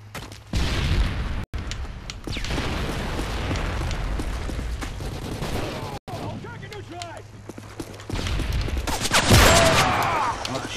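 Video game gunfire from Modern Warfare 3, a busy mix of shots and booms running throughout with a louder burst near the end, with talk mixed in.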